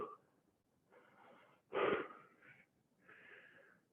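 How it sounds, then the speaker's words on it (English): Heavy breathing during a gentle home fitness workout, slow audible inhales and exhales close to the mic, with one louder, rougher wheezing breath in the middle and no speech. "So breathing in, breathing out."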